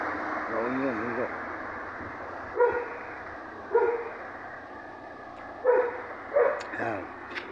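Several dogs bark in short separate bursts around a mountain roadside meal in La Union, with a steady low rumble of traffic or an engine underneath and no talk over them.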